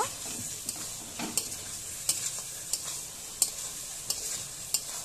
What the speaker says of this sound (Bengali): এবারে আলুগুলো আমি দিয়ে মশলার সাথে ভালোভাবে আমি কষিয়ে নেব